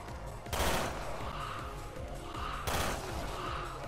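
Rapid gunfire in a video game raid mode, dense automatic bursts with two louder volleys, continuous and close with no pauses.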